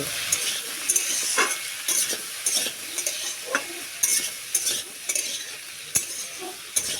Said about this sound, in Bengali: অল্প জিরে গুঁড়ো গুঁড়ো মশলাগুলো দিয়ে আবারও সব কিছু একসঙ্গে নাড়াচাড়া করে নেব